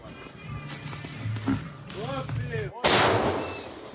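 A tank cannon fires during combat in the Kharkiv region, a sudden loud near blast with a long rumbling tail near the end, preceded by tank engine noise and someone speaking over the radio.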